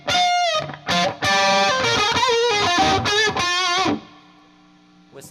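Electric guitar played through a Hughes & Kettner TubeMeister 36 tube amp with reverb set halfway: a run of loud, driven chords with brief gaps, ending in a ringing note whose reverb tail fades out.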